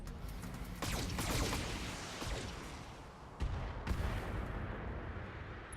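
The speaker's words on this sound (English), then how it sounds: "I love how that missile just went right through that cataphract." Missile fire in the video game BattleTech, a dense rumbling barrage of booming launches and blasts, with sharp impacts cutting through around the middle and a sustained roar throughout.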